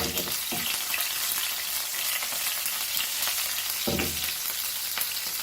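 Cumin seeds and curry leaves crackling in hot oil for a Goan prawn chilli fry, a dense steady sizzle with a couple of sharper bursts as leaves hit the oil, with no talking.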